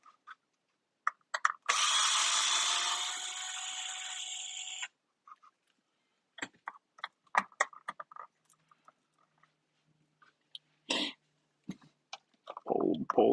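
On a RedCat Racing Vigilante 1:5 scale RC monster truck, a power tool whirs for a few seconds while backing out screws, followed by scattered clicks and light handling noises.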